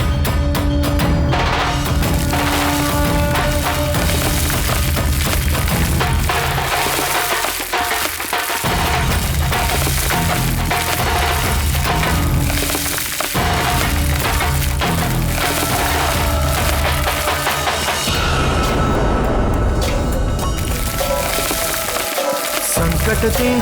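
A volcanic eruption effect in a dramatic mythological TV series plays as a dense, loud, continuous roar of cracking, splintering rumble and crashing debris, sustained throughout with deep booming underneath.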